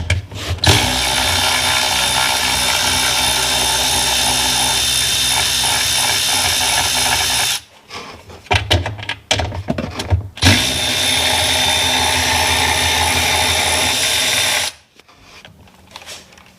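A power tool whines steadily as it undoes bolts on a Sea-Doo, two long loud runs separated by a short pause filled with clicks and handling noises, close up, with no speech.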